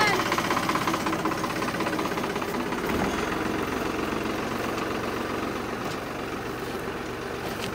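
A tractor engine runs steadily during evening hay-bale loading on a farm, a continuous low rumble that stays fairly loud throughout, with faint voices around it.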